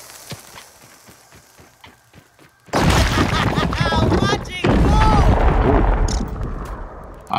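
A bomb dropped beside a rock in a video game goes off with a sudden loud boom after a quieter stretch of light footsteps. Rumbling noise and a voice talking over it follow the blast.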